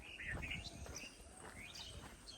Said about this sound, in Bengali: বাইরের পাখি যে ডাকতেছে